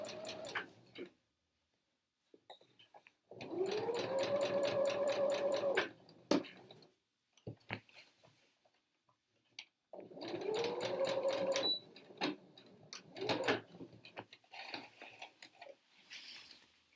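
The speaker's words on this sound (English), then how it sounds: "I've stitched around that pocket opening" A sewing machine stitches around a trouser pocket opening in two steady bursts of fast, even needle clatter with a rising motor whine, separated by quiet pauses and light handling clicks, close and fairly soft.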